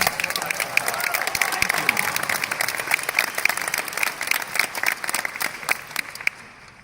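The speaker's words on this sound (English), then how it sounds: "A round of applause." A crowd claps steadily throughout, dense applause filling the room, tapering slightly at the end.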